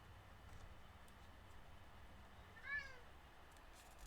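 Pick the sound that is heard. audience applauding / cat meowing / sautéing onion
cat meowing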